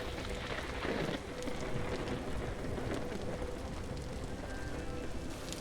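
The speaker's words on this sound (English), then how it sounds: "Morning came and the rain continued." Steady rain falls in the game Vintage Story through a grey morning, a dense, even hiss of drops that continues without a break and stays fairly loud from start to finish.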